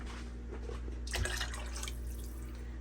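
About two cups of water poured from a cup into a pot of vegetable soup broth with turkey bacon: a short splashing gush near the middle over a low steady kitchen hum, with no voices.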